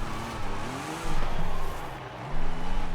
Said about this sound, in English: I can of course force it to drift by using some handbrakes and just turning a lot to right